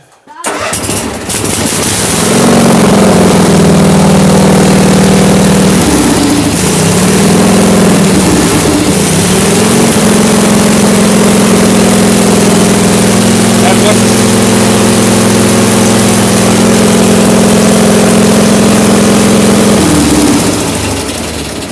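A Case 446 garden tractor engine starts up and runs loudly and steadily up close, a heavy droning hum that continues for the whole stretch.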